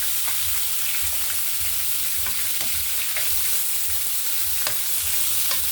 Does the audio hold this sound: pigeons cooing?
no